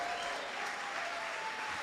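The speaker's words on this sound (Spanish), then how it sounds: "¿Cuántos aplauden al Señor?" Congregation applauding during a Spanish-language church service, a dense continuous clapping from a crowd filling the short clip at steady loudness.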